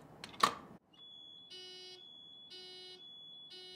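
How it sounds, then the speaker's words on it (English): A Simplex building fire alarm system going off: a steady high electronic tone runs throughout while a harsher pulsing horn blares in repeated one-second bursts after a brief opening knock. "Let's see what happens when an alarm is introduced into the system."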